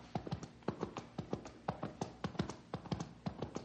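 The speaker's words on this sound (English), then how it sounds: "hear that? It sounds like a horse." Steady clip-clop of horse hooves on a hard surface, a regular rhythmic run of sharp knocks, fairly close and moderately loud.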